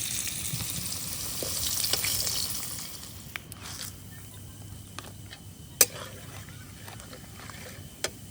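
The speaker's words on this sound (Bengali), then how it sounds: "এইখানে আলু পেঁয়াজ সব ফ্রাই করে রাখা হচ্ছে।" Potatoes and onions frying in a pan over a wood fire at a campsite, giving a steady soft sizzle that is louder at first and then settles, with occasional clicks and pops.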